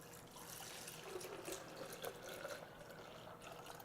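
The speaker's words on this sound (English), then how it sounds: "Just pour the milk into the blender" Milk pours steadily into a blender in a soft, continuous splashing stream, close by and fairly quiet.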